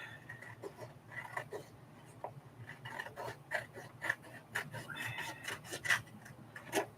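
A piece of a craft kit being trimmed by hand: repeated close rasping, scraping strokes with a steady rhythm and sharper peaks, over a low constant hum and no speech.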